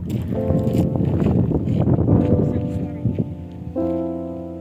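Strong, cold wind in the Khibiny mountains buffets the microphone with a continuous, loud, rough rush, while a voice speaks over it.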